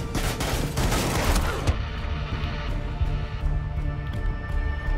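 Automatic weapons fire in the tactical shooter Rainbow Six Siege, a loud dense volley for nearly two seconds, then scattered sharp single shots and clicks over a lingering rumble.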